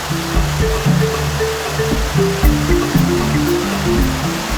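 River rapids at Bovec rush in a loud, steady roar of churning whitewater, with a low droning tone running through it.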